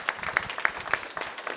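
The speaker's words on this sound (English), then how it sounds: "So give him a round of applause." Scattered clapping from a small group, a brief patter of hands with no voices on top.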